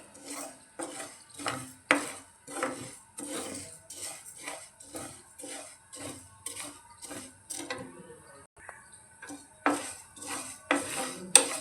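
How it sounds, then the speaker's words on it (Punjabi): A spoon scrapes and clinks steadily against a pan while spices are dry-roasted for homemade mango pickle, close and rhythmic, with repeated metallic strokes and brief pauses between them. "ਲਗਾਤਾਰ ਆਪਾਂ ਮਸਾਲਿਆਂ ਨੂੰ ਚਲਾਉਂਦੇ ਰਵਾਂਗੇ ਜੀ ਇਸੇ ਤਰੀਕੇ ਨੇ ਭੁੰਨਣੇ ਹੈਗੇ"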